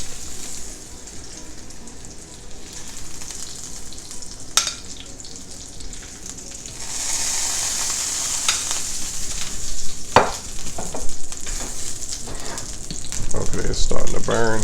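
Chicken searing in olive oil and butter in a pan, a loud continuous sizzle and spatter that swells in intensity, with scraping stirs and clatter of utensils throughout.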